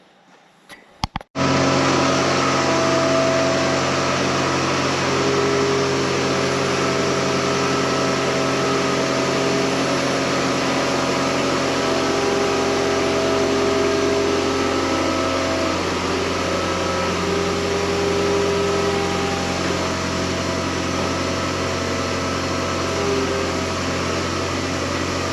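A Bobcat skid-steer engine starts with a sharp knock, then idles steadily and loudly nearby, a constant droning hum that holds for over twenty seconds without letting up.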